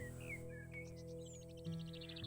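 Ambient birdsong from the House Flipper video game: a few bright, high chirps and short whistled calls over a steady low background hum, fairly faint and without talk.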